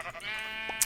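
A Minecraft sheep gives a short, wavering bleat up close, loud and alone over a faint game background.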